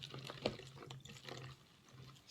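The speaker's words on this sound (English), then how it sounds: "Pour the vinegar" Vinegar pours into a container in a short, soft splashing trickle, close by and fairly faint, with no talking.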